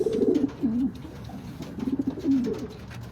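Pigeons coo close by in a loop holding about 31 birds, two rounds of soft, throaty warbling calls separated by a short pause.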